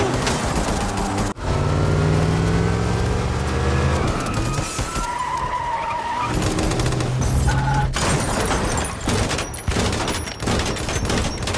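Three armoured bulletproof cars speed away through troops, with engines roaring, tyres skidding and squealing, and bursts of gunfire cutting in, loud and chaotic throughout.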